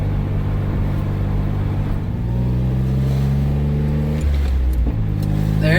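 Subaru Justy accelerating on the road, heard from inside as a loud, close engine drone whose pitch climbs through a gear and drops at the shift into fourth before rising again.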